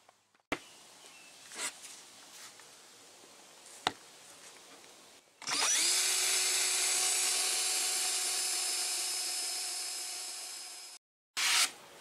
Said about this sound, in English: Now I take my jigsaw and cut this out.